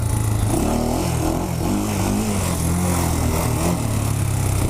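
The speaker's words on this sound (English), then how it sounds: "Enough for wheelies, let's try one." A 2007 Honda 400ex ATV engine revs hard through a wheelie, a loud continuous buzzing roar with rising and falling pitch as the throttle works, close up and filling the whole stretch without talk.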